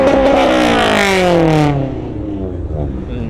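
A wrapped Honda S2000 at a car meet revs loudly nearby, its engine note sweeping down as the revs fall, then settling to a lower idle rumble.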